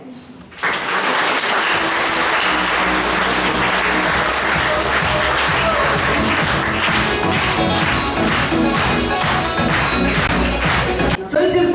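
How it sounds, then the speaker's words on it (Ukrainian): Loud, sustained applause from an audience at a lyceum school ceremony in Ukraine, a thick unbroken roar of clapping that swells in after a brief quiet start and then cuts off. "під ваші бурхливі оплески ми вітаємо чотири найпрекрасніші представниці Савинського ліцею."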